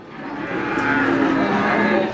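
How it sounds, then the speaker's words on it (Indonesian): A large cow moos at a busy cattle market, one long sustained low call heard close and loud over steady crowd murmur. "Oh, ono sapi gede."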